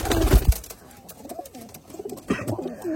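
Rajshahi Girbaz pigeons coo close by in soft, repeated throaty calls, opening with a louder rustling burst and then a few overlapping coos.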